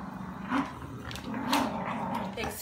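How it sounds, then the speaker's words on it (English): A dog lets out a low, rumbling growl in a couple of short, uneven bursts, close by and fairly quiet, with faint household voices around it. "That's not a nice growl."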